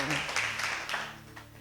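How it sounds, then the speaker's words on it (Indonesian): A church congregation claps during a worship service, a short burst of fairly loud, scattered applause that fades over about a second and a half, with faint voices underneath. "Tepuk tangan buat Tuhan"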